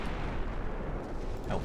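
A booming ammunition detonation on a warship in a naval battle video game, a dense, rumbling burst that fills the short moment at moderate loudness, with no voice over it.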